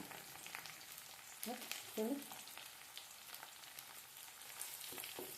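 Turmeric and ginger-garlic paste frying and being stirred in a pan for a potato chicken curry: a soft, steady sizzle with a couple of brief scraping stirs partway through, fairly quiet throughout.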